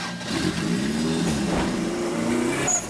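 A powerful car accelerating hard on a test drive, its engine note climbing and surging steadily close by, with a brief shout near the end.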